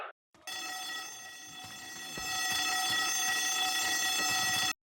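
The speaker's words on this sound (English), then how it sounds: "the alarm that plays during this section is incredibly grating on the ears" A harsh, continuous electronic alarm ringing in Left 4 Dead 2 starts after a brief silence and drones on loudly with a steady, tonal buzz that grows a little stronger, with no speech.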